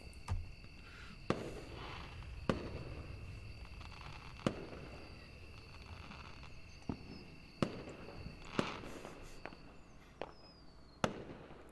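Fireworks in the visual novel Angels With Scaly Wings: a steady series of sharp, distant bangs roughly every second or two over a quiet, faintly humming backdrop.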